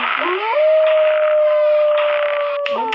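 A dog howls in a horror video game, one loud, drawn-out, close howl that holds a steady pitch before breaking off at the end, with no speech over it.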